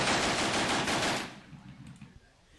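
Rapid gunfire rattles loudly in a burst during an SCP containment breach scenario, then cuts off abruptly into a quiet tail with faint scattered noises.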